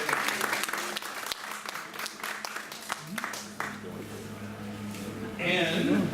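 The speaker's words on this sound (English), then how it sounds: "give her a round of applause" Seniors' club audience clapping for a volunteer at a mentalist show, loud and dense at first, then thinning out as the performer begins talking over the fading claps near the end.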